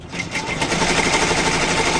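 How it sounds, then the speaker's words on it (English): An embroidery machine stitching a lined in-the-hoop zipper bag gives a rapid, steady mechanical chatter of needle strokes, close and continuous. "we're going to go ahead and return it back to the arms of the machine, and we're going to go ahead and stitch"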